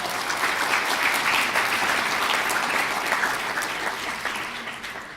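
An audience at a youth investor panel event gives a big round of applause for a young presenter named Nicole, a dense, sustained wash of clapping that slowly tapers toward the end.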